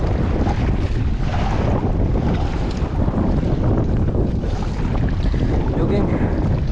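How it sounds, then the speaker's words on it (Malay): Strong wind buffets the microphone continuously around a kayak on the sea, with waves washing and slapping beneath a loud, constant roar that never lets up. "Angin kuat. Ombak pun padu."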